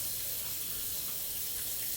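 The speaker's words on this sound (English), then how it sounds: "Going to wet my hands" Running tap water pours steadily over hands being wetted at a kitchen sink, a constant broadband hiss, close and even, with no speech.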